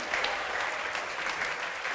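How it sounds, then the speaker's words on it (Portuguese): Church congregation clapping during a worship service, a steady dense wash of applause at moderate distance, continuous and even throughout with no voices standing out. "Vamos aplaudir ao nome de Jesus."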